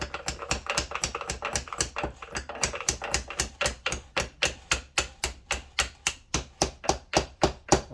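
Steady rapid tapping, a non-marring hammer striking a gear sleeve during a T10 four-speed transmission rebuild, in a quick even rhythm of light knocks, close up with no talking.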